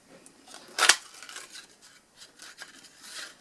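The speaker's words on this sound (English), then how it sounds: "you want to punch out some in the 1 3/8-inch circle punch" A 1 3/8-inch paper circle punch snaps through card stock once, giving a single sharp, close click near the start, with faint paper rustling before and after.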